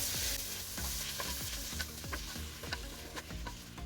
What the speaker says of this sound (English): put it in there, and then we're gonna stir it nicely so all the spices and ground beef